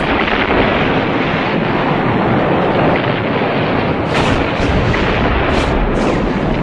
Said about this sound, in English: Terrific bombardment, awful noise rolling around the cliffs.